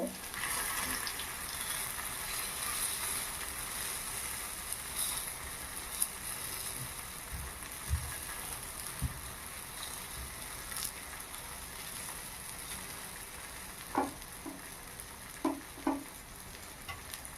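Pitha wrapped in gandal leaf fries over a medium gas flame, giving a steady close sizzle and hiss with a few soft taps and knocks toward the end.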